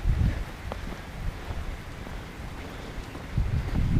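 Steady rain falls outdoors at a coastal fort site, a dense, even hiss with soft low rumbles that swell slightly near the start and end, with no one talking.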